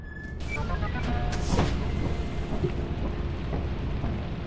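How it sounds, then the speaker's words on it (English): Steady rain pours in the video game Lethal Company, a dense continuous wash with low rumbling underneath and a few scattered game tones and clicks over it. "And it says it's raining, which it is."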